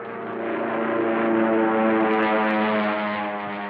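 A World War II Wildcat fighter plane flies overhead, its propeller engine droning steadily with a strong, even hum that swells slightly and holds, heard alone without voices.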